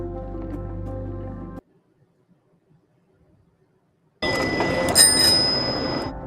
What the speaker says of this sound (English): Okay, so it sounds like a bike bell.